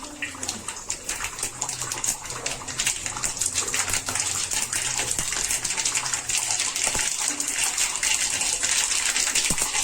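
Mustard seeds spluttering in hot oil for a vegetable dal sambar, a loud, close, continuous hissing rush dotted with fine crackles, steady for the whole stretch with no speech.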